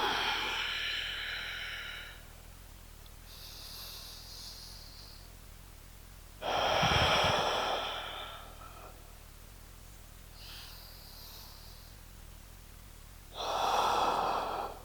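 Slow, deep breathing during a yoga session, with long loud exhales and softer inhales alternating at a relaxed pace, close to the microphone and without talk.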